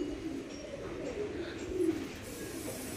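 Pigeons kept by a pigeon fancier coo softly: faint, low, repeated throaty calls over a quiet, steady background.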